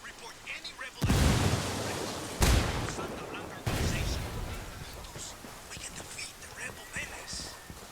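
A grenade blast in the Ghost Recon Wildlands game lands as a sharp boom, followed by two more heavy thuds in quick succession, each trailing off into rumble, with faint game ambience afterward.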